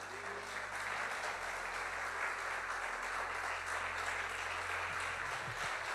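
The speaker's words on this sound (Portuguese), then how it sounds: "Uma salva de palmas." A church congregation breaks into sustained applause, an even, unbroken sheet of clapping heard from some distance under a low steady hum.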